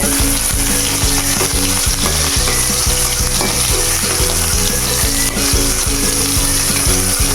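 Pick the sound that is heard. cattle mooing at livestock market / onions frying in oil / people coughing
onions frying in oil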